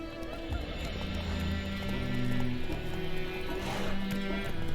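Roach, the horse in The Witcher 3, gallops with steady clip-clop hoofbeats and a brief whinny, moderately close under game music and ambience.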